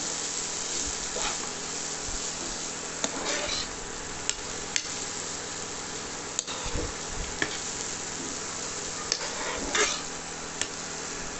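Cabbage fry with chili powder is stirred in a pan over a constant sizzle, with repeated metal spoon scrapes and sharp clicks against the pan at irregular intervals, close by and free of talk.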